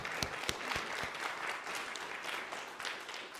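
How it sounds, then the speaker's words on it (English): An arts-centre audience claps for the technical crew, a moderately loud patter of hands with a few sharp, close claps standing out. "Big clap for them."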